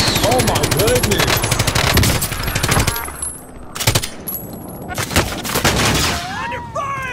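Dense automatic gunfire from the video game Warzone rattles in rapid loud bursts, then breaks into scattered single shots and short volleys, with voices talking under the firing.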